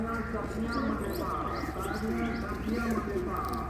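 Pigeons in a Punjabi loft coo softly and repeatedly in a soft, rolling rhythm, with light chirps mixed in.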